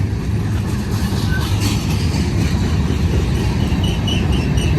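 A BNSF freight train rumbles past the curve at Blue Cut in Cajon Pass, California, a steady, loud, close roar of wheels and rolling cars with faint metallic squeals throughout.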